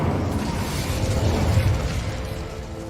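An Incendio fire spell cast in the video game Hogwarts Legacy, a dense rushing burst of fiery noise with a low rumble, sustained for a few seconds without speech.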